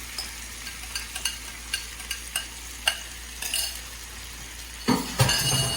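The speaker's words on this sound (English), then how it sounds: "I'm going to turn that down to 8 and go ahead and add my shrimp" Shrimp dropped into a hot pan on a stove turned down to medium-high, with a steady frying sizzle, repeated clinks of a utensil against the pan, and a louder burst of sizzling and scraping near the end.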